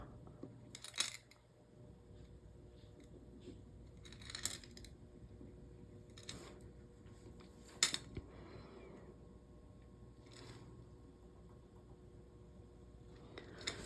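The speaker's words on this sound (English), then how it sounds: "you can certainly get your craft knife out and just give it a little help. Just cutting through." A craft knife cuts through a waterslide transfer on polymer clay, making a few faint, scattered scrapes and light ticks spaced several seconds apart over a quiet background.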